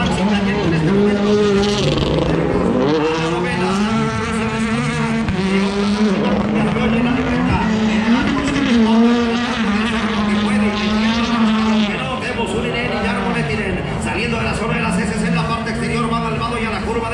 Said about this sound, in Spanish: subiendo el Hyundai tripulado por Honda Nax, metiéndole bastante esta Nax y cayendo en este momento